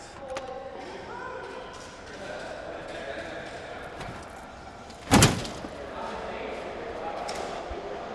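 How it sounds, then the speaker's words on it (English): A heavy warehouse door is forced open, giving one loud bang-like thud midway through, set against a quieter background with people talking around it. "Door is fully open."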